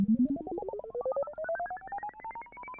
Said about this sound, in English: So this is an effect from Analog Lab.